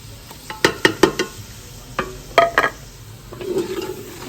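Onions, ginger and garlic frying in a pot are mashed with a utensil, giving a few sharp scraping knocks in two bursts over a soft sizzle that swells near the end, with no one speaking.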